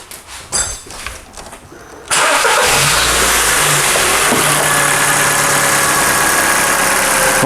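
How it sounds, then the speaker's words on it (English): A car engine cranks and fires during a battery charging test, then settles into a loud, steady idle that runs on without a break. "start the engine and press enter."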